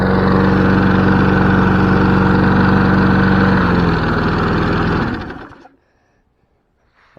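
A free lawnmower engine, left with its oil cap off and filled with water, runs loud and steady for about five seconds, its pitch shifting partway through, then sputters and cuts out into near silence.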